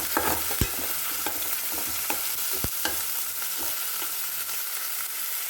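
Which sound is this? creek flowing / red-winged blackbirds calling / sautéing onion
sautéing onion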